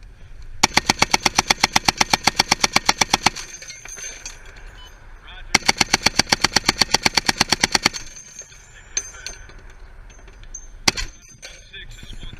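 .50 caliber machine gun live fire: two long bursts of rapid, evenly spaced heavy shots, each lasting a few seconds, followed by a few isolated reports amid background noise.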